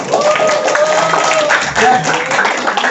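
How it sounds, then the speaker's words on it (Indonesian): Students clapping in a classroom, a dense patter of hands mixed with chatter and voices throughout. "Tepuk tangan ya yang pertama."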